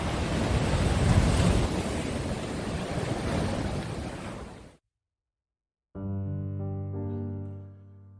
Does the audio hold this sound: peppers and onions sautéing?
no